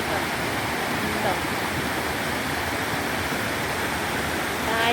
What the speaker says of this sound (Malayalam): കലപില ശബ്ദം പുറപ്പെടുവിച്ച് തുള്ളിച്ചാടി ഒഴുകി പോവുകയാണ്